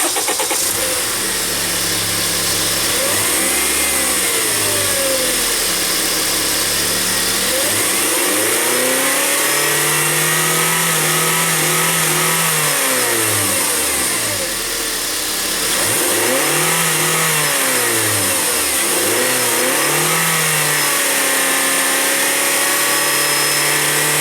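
A 2009 Honda Accord engine with its factory intake revs repeatedly, climbing and falling in several loud, close pulls over a steady idle, with no talking.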